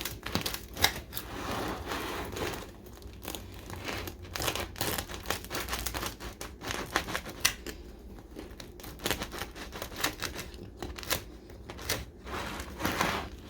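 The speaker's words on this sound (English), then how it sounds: "Make sure you have a serrated knife when cutting your bread" A serrated knife saws through a crusty homemade sourdough loaf, giving a close run of crackly, crunchy rasping strokes with brief pauses between them.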